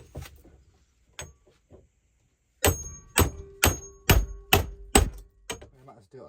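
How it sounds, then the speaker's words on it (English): A run of about seven sharp, loud hammer blows in steady rhythm, close by, on a desk while working on Nissan R33 Skyline parts, after a few scattered lighter knocks. "Got the hammer."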